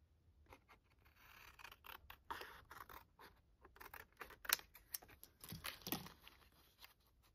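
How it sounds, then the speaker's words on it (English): Scissors snip through a paper picture, cutting it in half for an altered-art junk journal page, giving a run of close crisp crunching cuts with short gaps between them. "So I'm going to cut this picture here in half."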